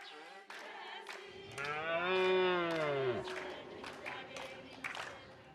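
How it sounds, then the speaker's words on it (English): Herero cattle in Namibia lowing, one long, loud, close moo swelling and fading over about two seconds, set among scattered sharp knocks and background noise, with a voice faintly present. "cattle are far more than mere livestock"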